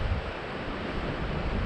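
Strong wind and heavy surf on the rocky coast beside Findlater Castle near Cullen, a steady broadband roar with constant buffeting wind noise on the microphone and no voices.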